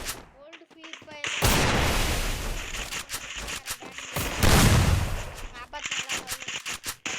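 Gunfire rings out in a Free Fire match as two sustained loud bursts of rapid shooting, followed by scattered single shots, with someone talking over the game.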